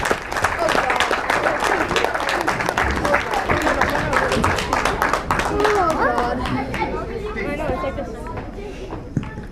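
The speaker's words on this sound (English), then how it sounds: "one more round of applause for our 10U team" A banquet crowd claps for a 10U youth baseball team in a dense burst of applause that gradually thins out and fades, with murmuring voices underneath.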